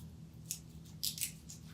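A knife scores an X into the crispy top layer of a raspberry baked brie, making a few short, soft crunching snips close by against a quiet background.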